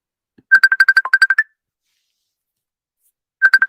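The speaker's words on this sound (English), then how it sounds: "The phone is ringing." A telephone ringtone sounds alone in quiet, a bright rapid burst of electronic trills lasting about a second, then silence, then the same trilling starts again.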